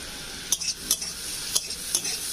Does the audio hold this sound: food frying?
yes